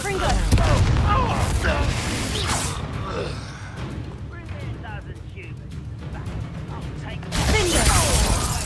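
Spell blasts from Confringo in the wizarding game Hogwarts Legacy, loud booming bursts with whooshing and shattering debris over busy combat noise, with a voice calling out spells.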